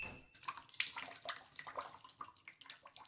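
Shower water runs in the video game The Killing Antidote, a faint, irregular spatter and splash heard on its own for a few seconds.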